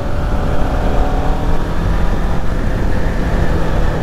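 Engine of a 2016 Kawasaki Ninja 650 motorcycle on a night ride, a loud continuous drone mixed with wind rush that holds steady throughout.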